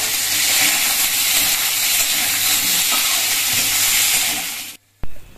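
Green chilies and whole cumin seeds frying in a little oil, a loud, close, continuous sizzle and hiss that cuts off abruptly near the end, followed by a brief clatter.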